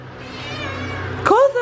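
A pet cat begging for cuddles lets out a loud, sharp meow near the end, after a softer drawn-out whine, close to the listener.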